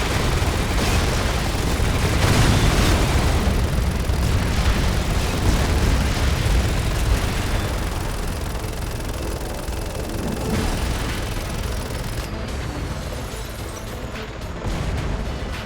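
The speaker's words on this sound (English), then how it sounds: "there's a lot of explosions in this game." Continuous heavy explosions and rumbling blasts from the Resident Evil 6 video game, a dense, loud barrage of booms and crackling debris that fades slightly toward the end.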